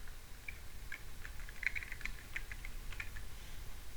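Keystrokes on a computer keyboard while entering text into a callout comment box in Foxit PDF Editor, a faint run of light, irregular clicks close by against a low background hum.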